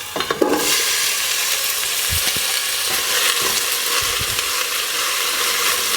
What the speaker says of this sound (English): saute the celery, the onions and the carrots over low heat